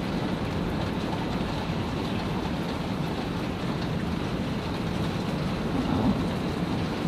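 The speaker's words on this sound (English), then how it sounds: "The storm is just so intense." A severe thunderstorm with heavy rain, a dense, unbroken roar of pouring rain with low rumbling beneath, loud and steady from start to end without speech.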